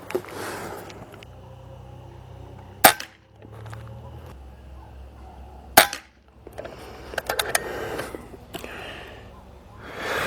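A Nova Vista HP-M900 air rifle fires JSB Exact Jumbo RS pellets at a 25-metre target. Two sharp, close cracks come about three seconds apart, with quiet handling rustles and breaths between and after them.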